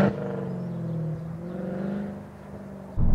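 A Mercedes C63 AMG station wagon with a naturally aspirated V8 and a loud exhaust drones and rises in pitch, dips as it downshifts, then bursts louder again at the end, heard from inside the car.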